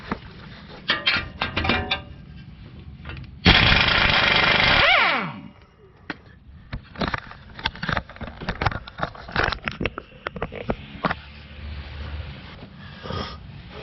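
Metal-on-metal hammering drives a 21mm tie rod out of an aluminum knuckle on a 2020 Ford F-150, irregular loud clanks close by, interrupted by a burst of air-tool whir and winding down, followed by scattered lighter knocks.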